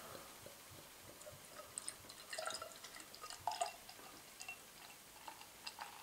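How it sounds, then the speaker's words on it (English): Kingfisher Premium lager, 4.8%, is poured from a bottle into a glass, a faint steady trickle with light fizzing and scattered soft ticks and drips, close by with no talking. "So here's a pour of the Kingfisher."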